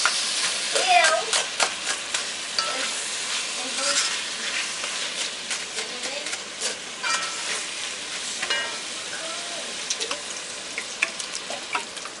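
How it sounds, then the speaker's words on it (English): Cornmeal and spinach cooking Haitian style in a pot after coconut milk is poured in, giving a steady sizzling, frying crackle with occasional stirring clicks, close and moderately loud. "Now I'm going to add some coconut milk."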